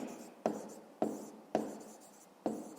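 Pen strokes write down a math answer in a notebook, four faint scratching strokes close up, each starting with a sharp touch and trailing off, with a quiet pause between them.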